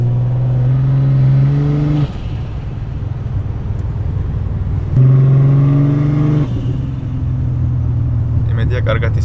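A Mercedes 124 with a warning light flickering for an engine problem revs hard twice, each burst climbing in pitch, loud and close, before dropping back to a rough idle.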